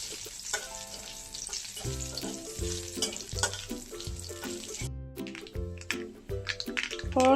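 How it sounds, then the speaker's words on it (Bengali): Five-spice seeds and mustard seeds crackle and sizzle loudly in oil left from frying fish, over a steady plucked musical backing, with a brief pause before the sizzling resumes. "ফোড়নটাকে একটু ভেজে নেব।"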